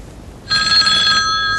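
A telephone ringing, a sudden electronic ring tone starting after a brief quiet moment and continuing steadily to the end, close and loud with no voices.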